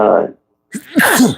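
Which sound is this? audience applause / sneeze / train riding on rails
sneeze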